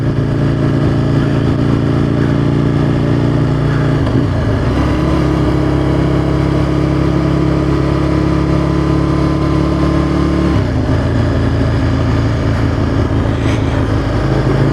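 An Aprilia motorcycle engine drones loud and close while riding, holding steady revs and then shifting pitch with gear changes, a continuous mechanical hum under wind.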